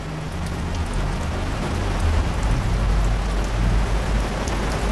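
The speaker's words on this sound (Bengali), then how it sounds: "এবং অঝরে বৃষ্টি নেমেছিল।" Heavy rain in a Bengali horror cartoon pours down in a dense, steady roar of drops hitting surfaces, loud and continuous with no voices.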